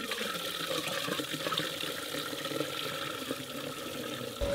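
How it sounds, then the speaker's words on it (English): Dirty water flushing out of a clogged heat pump unit: a continuous close rushing, splashing hiss of running water, steady and fairly loud throughout with no voices. "The water coming from the unit is definitely filthy."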